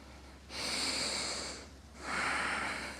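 Deep yoga breaths, a long steady inhale followed by a slow, airy exhale, close and alone with no talking.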